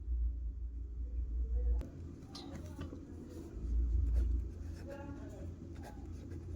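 Chalk or marker writing on a board during a maths lecture on complex analysis, a series of short scratching strokes at a moderate distance under a low room hum.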